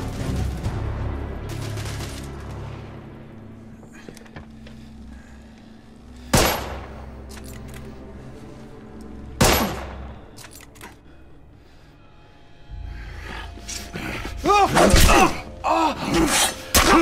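Gunfire in The Order 1886 video game, with a few isolated loud shots standing out amid quieter game ambience, followed near the end by a burst of chaotic sound.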